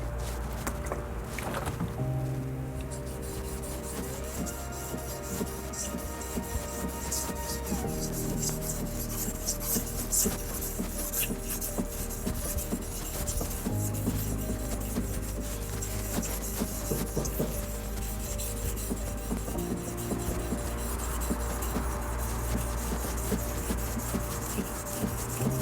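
A surface is polished by hand with 400-grit abrasive, a close, steady, rhythmic rubbing and rasping of back-and-forth strokes that continues without pause, with no speech.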